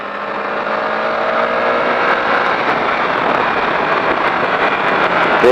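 A motorcycle accelerates out of a corner on the Magny-Cours race track, its engine rising in a high, strained whine that builds loudly through the run, with no talking over it.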